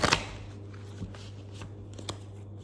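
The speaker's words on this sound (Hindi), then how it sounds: "एक और शफल और उसके बाद स्टार्ट करते हैं" Tarot cards are shuffled close up in one quick riffling burst at the start, followed by soft taps and handling of the deck in a quiet room.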